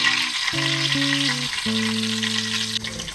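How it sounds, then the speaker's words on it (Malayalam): Chicken and curry leaves hit hot oil in a pan, giving a loud, continuous sizzle and crackle that runs from start to finish, with an electronic beeping tone over it and no talking. "ചിക്കൻ ഇട്ട് കൊടുക്കുകയാണ്."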